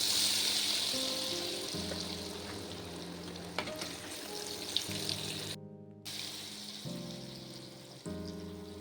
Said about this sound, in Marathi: जे तेल आपलं गरम झालेलं आहे त्यात आपल्याला ही चपाती सोडून द्यायची आहे.